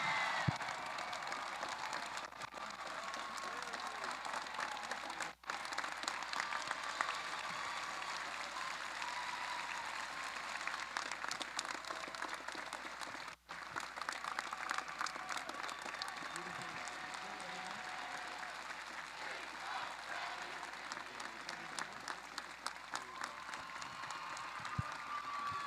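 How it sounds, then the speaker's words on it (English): Crowd at a FIRST robotics district championship award ceremony applauds in a long, steady, roaring wash of clapping and some cheering, continuing for over twenty seconds with faint voices underneath. "And one more round of applause for all these mentors."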